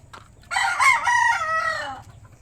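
A rooster crows loudly and close by, one drawn-out call lasting about a second and a half, with faint clucking from a flock of hens and pullets before and after.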